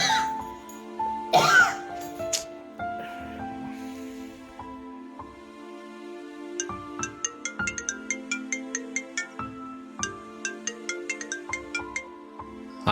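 A mobile phone ringtone plays a bright, plinking electronic melody with repeating notes, heard fairly close and alone at first, with a brief cough or throat clearing early on.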